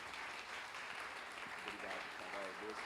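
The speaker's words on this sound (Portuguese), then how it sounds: "Dê uma salva de palmas sobre esta família." A church congregation applauds a family in a brief, faint, continuous wash of clapping, with voices murmuring underneath.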